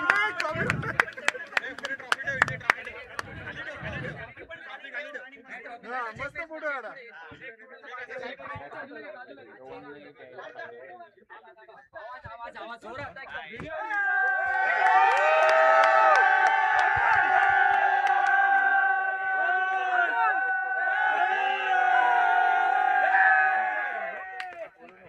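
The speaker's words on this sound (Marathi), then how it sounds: "जोरदार टाळ्या मालाड संघाचे" At an underarm turf cricket tournament prize ceremony, an announcer speaks over scattered claps, then a crowd breaks into loud sustained cheering, whooping and chanting for the Malad team.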